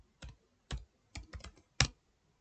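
Password keyed in on a computer keyboard: five or six short, crisp taps in an uneven rhythm, close and quiet, with silence between strokes.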